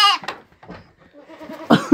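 A goat bleats several times at close range on a farm, with loud wavering cries at the start and again near the end, separated by quieter rustling.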